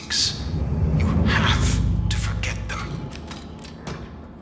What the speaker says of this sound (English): Stop closing the fucking doors.